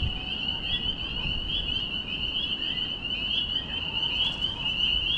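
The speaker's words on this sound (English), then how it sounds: "Wow, do you hear those peepers?" A dense chorus of high, shrill peeping frog calls rings steadily throughout, fairly distant, over a low background hum.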